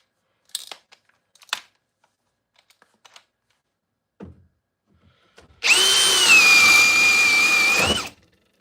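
A drill boring through wood with a Bosch 7/8 inch paddle bit gives a loud, steady whine of about two and a half seconds that stops abruptly, following a few scattered clicks and knocks.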